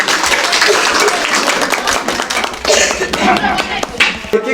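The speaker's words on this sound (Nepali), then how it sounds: "सबैजनाले एकपल्ट फेरि ताली बजाइदिनु" Crowd at a village community hall's foundation day event applauds, loud uneven clapping with sharp individual claps standing out, while voices talk through it.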